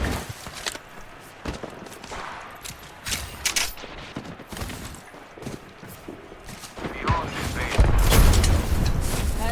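Video-game gunfire aimed at an enemy player, a burst of shots and impacts mixed with busy game effects, getting louder and denser toward the end.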